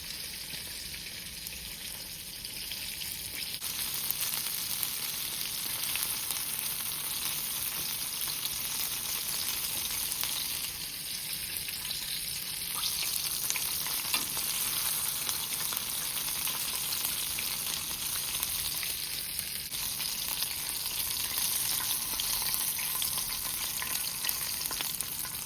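Chicken frying in hot grease, a dense, steady sizzle and crackle close by throughout, with slight swells in intensity and no talking.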